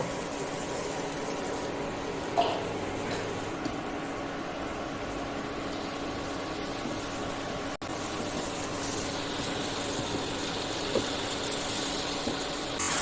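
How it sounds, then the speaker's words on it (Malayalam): Water from rinsing a mixer jar pours into a pan for a raw banana curry, producing a continuous, even splashing rush that holds steady throughout with a few faint knocks. "കുറച്ച് മിക്സി കഴുകിയിട്ട് ഇങ്ങനെ വെള്ളം ഒഴിക്കുന്നുണ്ട്."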